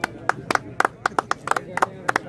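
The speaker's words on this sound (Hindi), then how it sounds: "ताली बजाओ।" Scattered hand claps from a small crowd at a cricket tournament final and award ceremony, about fifteen sharp, uneven claps over two seconds, fairly close, with faint voices underneath.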